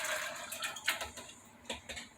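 Cold water poured into a blender holding soaked almonds for homemade almond milk; a quiet, uneven splashing and trickling with a few brief louder gushes, no talking.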